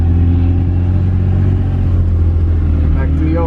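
A car engine drones loud and steady while drifting, a low rumbling roar with faint tire noise, and voices talk over it.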